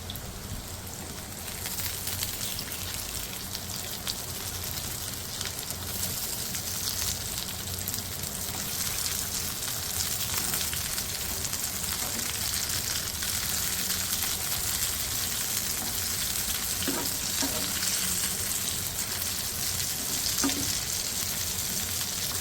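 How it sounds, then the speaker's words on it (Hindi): Pea khandvi pieces fry in hot oil with a steady, even crackling sizzle, close and continuous, with a few faint clinks of a utensil near the end and no speech. "बस ये सारे मैं इसी तरह फ्राई कर लूँगी पहले।"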